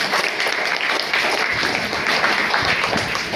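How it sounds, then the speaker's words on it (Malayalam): An audience breaks into sustained applause at a business meeting, a full, dense wash of clapping from many hands that stays steady and fairly loud for the whole stretch. "നല്ലൊരു നിറഞ്ഞ കൈയടി"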